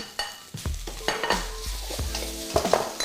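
Spices hit a hot wok of kung pao chicken with a sharp sizzle, followed by repeated metallic scraping and stirring strokes in an uneven rhythm over a steady frying hiss, close and clear.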